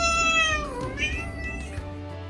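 A domestic cat meows loudly and close up in one drawn-out call that bends downward and then rises again, over a low steady background hum, with no talking.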